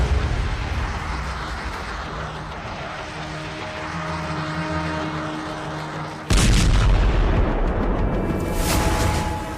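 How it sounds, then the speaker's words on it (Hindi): Missile attack explosions in Israel, near Jerusalem and Beit Shemesh: a low, sustained rumble gives way to a sudden loud blast around six seconds in, followed by a heavy, continuing roar. "मिसाइल हमले देखिए"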